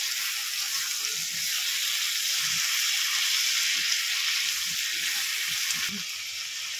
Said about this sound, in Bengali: এবারে ভালো করে একটু নেড়ে চেড়ে নেব।